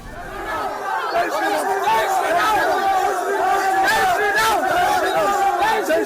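A large crowd chatters at an event held for Narendra Modi in the UAE, a dense, continuous wash of many overlapping voices with occasional louder calls.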